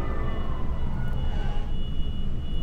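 In the Roblox game The Hybrid, an ambulance siren wails loudly and continuously over a low rumbling background, its tone sweeping as it sounds.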